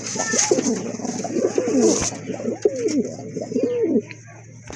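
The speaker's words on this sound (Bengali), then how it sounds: "আর এক জোড়া কবুতর এখানে" Pigeons, including a pair of Barhuma pigeons, coo in soft repeated throaty phrases close by, with steady background hiss and no talking.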